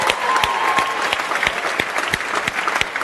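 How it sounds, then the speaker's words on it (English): An indoor audience at an EA Sports event claps in dense, sustained applause, many hands close together without pause, and no voices stand out. "Give them a cheer, everyone, in the building tonight."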